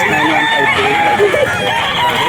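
A crowd of hens and chicks at a poultry seller's place crow and cluck loudly and continuously, overlapping calls filling the scene while a person talks underneath.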